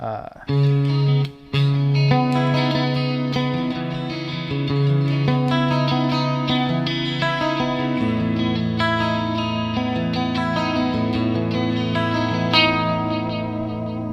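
Monoprice Indio Helix Strat-style electric guitar on the fourth pickup position, with a clean, glassy, chorused tone, strums and picks chords steadily, close and bright, with a brief pause near the start.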